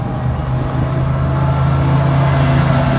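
A Ferret armored military vehicle drives along a suburban street, its engine running as a loud, steady low drone that holds even with no gaps.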